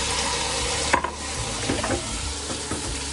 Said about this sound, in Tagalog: So, igigisa muna natin siya ng saglit lang.